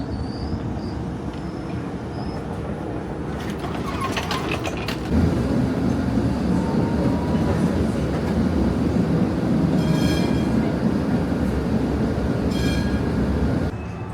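A San Francisco streetcar rolls past with a steady rumble, rail noise and clanks, then slows and comes to a stop, with brief high squeals near the end, heard from nearby and without talking.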